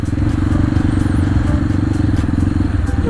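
A Honda Vario scooter rides close by with a loud, steady engine drone and rough exhaust rumble that continues unbroken throughout, with riding noise mixed in.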